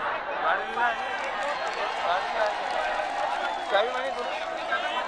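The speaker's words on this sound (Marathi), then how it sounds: "बदलापूर रेल्वे स्टेशनवरती सध्या आंदोलकांनी ठिया मांडलेला आहे जोरदार घोषणाबाजी देखील केली जाते" Protesters at Badlapur railway station chanting slogans, a dense crowd roar of overlapping voices filling the whole stretch, loud and continuous.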